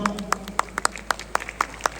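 Sparse, scattered hand claps from a small audience at a Blue World City property presentation, a few distinct claps spaced irregularly and fairly faint against a quiet background.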